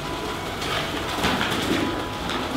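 Pigeons coo with low, murmuring calls inside an abandoned building, heard steadily amid a diffuse, echoing background hiss.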